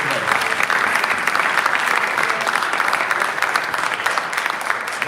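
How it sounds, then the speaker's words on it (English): Audience applause at the Milwaukee Tool challenge event, a sustained, even roar of many people clapping, fairly close and full, lasting the whole moment with no voices breaking through. "I think one last final round of applause for everyone here today"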